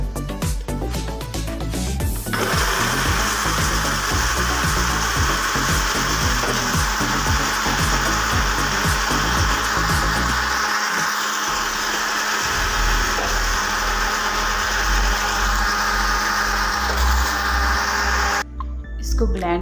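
An electric blender mixes red velvet cake batter of egg yolks and powdered sugar, a loud continuous motor grind and rattle that shifts in pitch partway through, with someone talking over it.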